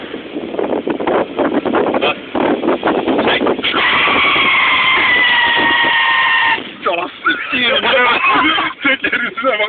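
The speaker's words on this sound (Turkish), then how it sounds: "Böyle bir drift olmaz ya." An Opel Corsa B drifts on asphalt, its tyres letting out a sustained, wavering screech of several seconds, with people talking loudly and close by before and after.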